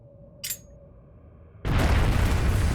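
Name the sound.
bomb explosion in the video game Trails of Cold Steel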